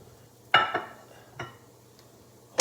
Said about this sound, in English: hold on to the pan with your other hand, just flip one more time